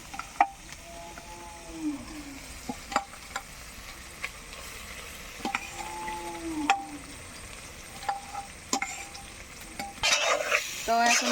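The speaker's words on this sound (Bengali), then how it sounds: "এখন চিংড়ি মাছগুলো দিয়ে দেবো" Shrimp fry in a cooked spice paste with turmeric and salt under a soft, low sizzle, while a utensil stirs and scrapes the pan with scattered sharp taps and clicks.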